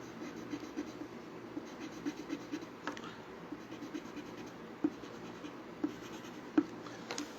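Pen drawing on paper while cartooning the letter X, a steady run of soft scratchy strokes with a few sharper taps, close and clear with no talking.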